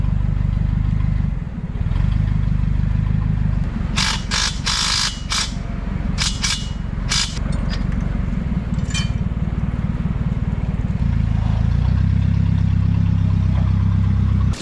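An outboard boat engine runs steadily with a low, continuous drone, and a few sharp metallic clatters break in partway through.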